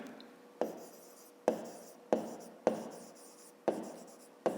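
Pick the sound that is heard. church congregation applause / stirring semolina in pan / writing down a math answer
writing down a math answer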